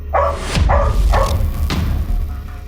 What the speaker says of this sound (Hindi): कुत्तों का लीडर है ये